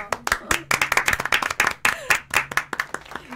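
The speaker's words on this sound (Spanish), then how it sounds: "Un aplauso." A small studio audience at a radio show gives a short round of clapping, distinct sharp claps in a quick uneven rhythm, close and clear, with a voice briefly heard over it.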